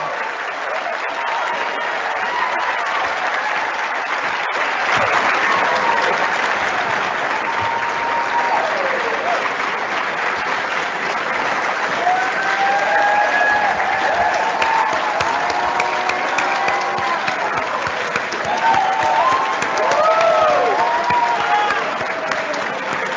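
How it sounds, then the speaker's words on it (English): Sustained, dense applause from a graduation ceremony audience celebrating the newest dentists, the Class of 2022 at Marquette University School of Dentistry, steady and full throughout with faint voices and whistles woven in. "I would like to call for a round of applause for the world's newest dentists, my colleagues, the class of 2022"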